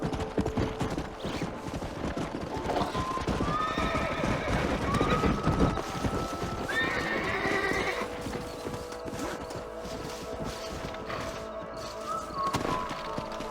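Horses in the Red Dead Redemption video game clip-clop with a steady run of hoofbeats, neighing and whinnying several times over the top, with occasional thuds mixed in and no talk.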